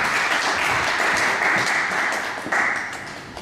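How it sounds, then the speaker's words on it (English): An audience at a church youth ministry gathering breaks into a round of applause, a dense, loud wash of clapping that holds steady for a few seconds before beginning to fade. "Give me a round of applause."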